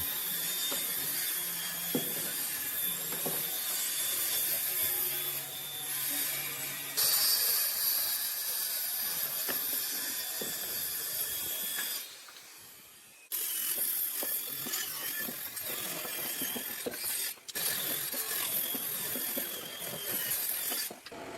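A power saw trims the ends of pine roof boards on a large timber pavilion, a loud sustained whining buzz that cuts out briefly midway before resuming, close and with no talking.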